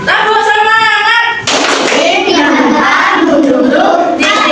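A class of students standing for a rhythmic spirit clap, loud group clapping mixed with chanting voices and a sung tone, close and energetic throughout.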